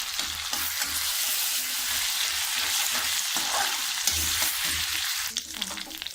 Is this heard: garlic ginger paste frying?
yes